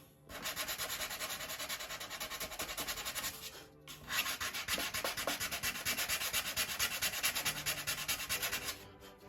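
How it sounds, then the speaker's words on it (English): Sandpaper wrapped over a rounded wooden dowel rubbing wooden parts of a P-40E Warhawk model airplane, two long steady passes of rhythmic close-up rasping with a brief pause between them. "So when I'm sanding, the sandpaper will give a little bit on the end."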